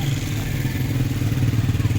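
Motorcycles pull up and idle close by at a nighttime gathering where a caravan of devotees is preparing to set out for the shrine of Lal Shahbaz Qalandar. The engines hold a steady low rumble with some clatter and no voices on top.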